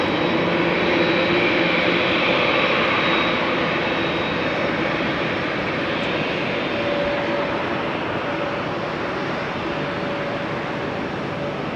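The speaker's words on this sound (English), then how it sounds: "Also KLM Dreamliner." A KLM Boeing Dreamliner jet at a rainy Amsterdam Schiphol Airport gives a broad, steady engine roar, loud and sustained, easing slightly over the span with no voices present.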